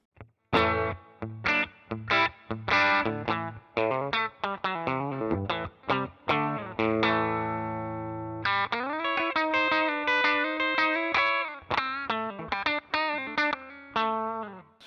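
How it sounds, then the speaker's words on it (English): A PRS S2 Standard 22 electric guitar on its bridge humbucker plays fast strummed chords and then ringing sustained notes, bright and driven through effects, loud and alone with no talking. "So there's your bridge humbucker."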